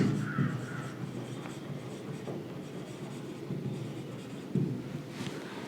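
Chalk or marker scratching across a board in a physics classroom, a steady run of rubbing strokes with brief taps, moderately close and quiet, with no talking.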